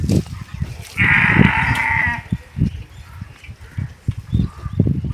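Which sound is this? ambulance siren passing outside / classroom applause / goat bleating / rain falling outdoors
goat bleating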